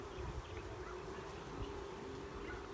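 Aggravated honeybees buzz around a Flow Hive left dry after Hurricane Michael, a faint steady drone with low background rumble.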